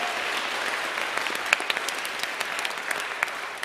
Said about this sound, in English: can I get a round of applause for all of our contestants tonight?